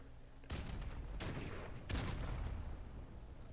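Explosions in Call of Duty Modern Warfare Remastered, a random grenade blast among them: three loud, close booming bursts about 0.5, 1.2 and 1.9 seconds in, each leaving a rumbling roar under dense game noise.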